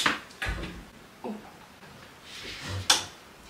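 A door in a home is handled in several separate bursts, with knocks, thumps and rattling contacts spaced across a few seconds. The door fails to close properly, and no voices are heard.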